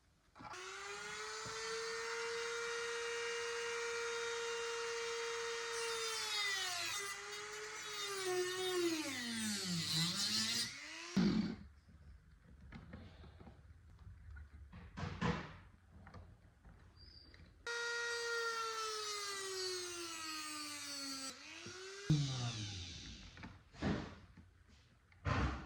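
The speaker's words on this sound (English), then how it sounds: "I'm going to take off some length and make a 45-degree angle using my multi-tool." An oscillating multi-tool cuts 19th-century mahogany to a 45-degree angle: a buzzing motor whine that drops in pitch as the blade bites, in two separate bursts with quiet handling knocks between them.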